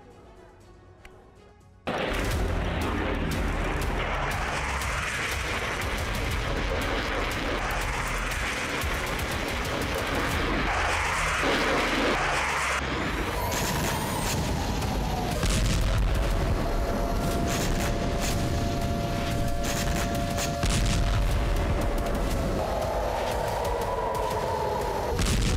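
Explosions from military strikes on Iran rumble and crack through loud, dense, continuous news footage, with heavy booming and a sustained roar throughout.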